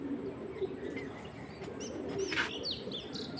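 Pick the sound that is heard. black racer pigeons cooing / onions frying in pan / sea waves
black racer pigeons cooing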